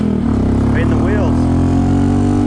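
A Honda CT125 motorcycle with a 142cc big bore engine accelerates hard, rear wheel spinning. Its engine drones loud and steady from close by, and the pitch shifts as it revs.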